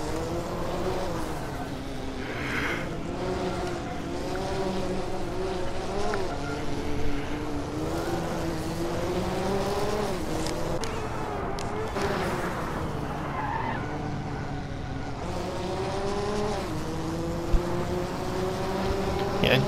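In a racing video game, a Mazda 787B and a Porsche 962 race at Spa, their engines droning steadily with rising and falling revs and tire skids throughout, under occasional voices.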